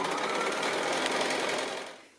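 A sewing machine quilting a line of stitching a quarter inch from the seam, running as a steady, dense mechanical whir at close range for about two seconds before trailing off, with no talking.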